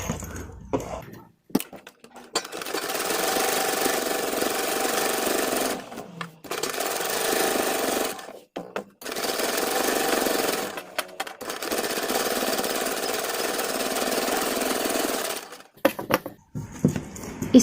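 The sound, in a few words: sewing machine stitching along the edge of a kurti neckline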